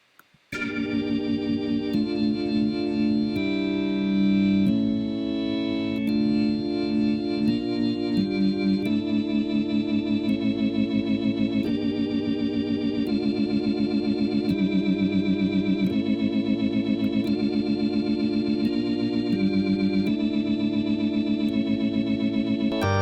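A sustained organ plays chords through a Leslie rotating speaker, with a swirling, wavering tone, steady and continuous for over twenty seconds.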